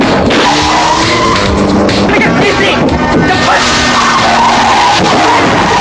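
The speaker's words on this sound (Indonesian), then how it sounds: "Kejar-kejaran mobil pun berlangsung dengan sangat sengitnya." Tires screech and skid loudly during a fierce car chase, with dense engine roar and squealing filling the whole stretch, and a faint voice mixed in.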